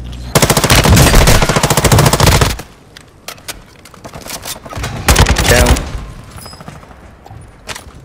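Automatic gunfire in Call of Duty: Modern Warfare II: a long, rapid, loud burst, then scattered single shots, then another short burst close by.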